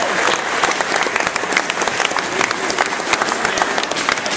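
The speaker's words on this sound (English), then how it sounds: "Yeah, give yourself a round of applause." An audience claps loudly for a girls' team being honoured with a state citation, steady dense applause filling the room for several seconds with scattered louder claps and a few cheers.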